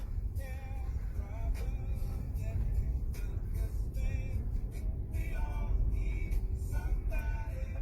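A two-wheel drive vehicle on new BFGoodrich KO2 tires drives over rough ground, a constant low engine and road rumble with intermittent rattles and squeaks, while people talk inside the cab.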